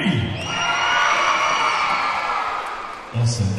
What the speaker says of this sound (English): As loud as you can, all the kids in the house, I want you to scream, I want you to cheer, I want you to clap your hands and stomp your feet